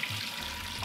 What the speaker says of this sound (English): this is just water, so you can pour that straight in the sink